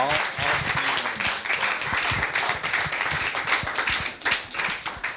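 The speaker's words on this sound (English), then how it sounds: "Can we have a big round of applause first?" A big round of applause from an audience at a poetry event, vigorous sustained clapping with a few louder individual claps and faint voices underneath.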